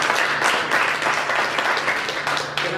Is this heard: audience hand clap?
yes